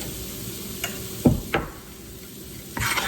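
Seasoned flour is stirred into hot oil in a skillet, a continuous close sizzle broken by a few sharp scrapes and knocks of the spoon against the pan.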